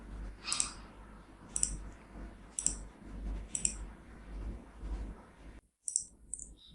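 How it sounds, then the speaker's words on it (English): Computer mouse clicks while working in CATIA V5 software, about six sharp, quiet clicks at roughly one-second intervals over faint background hum, with no speech. "double click on the profile tool."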